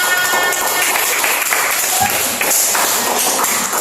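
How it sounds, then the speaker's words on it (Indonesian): A classroom of students applauds during a teaching-practice lesson, giving a dense, steady patter of many hands that runs throughout with a faint voice mixed in. "Oh iya, berikan tepuk tangan."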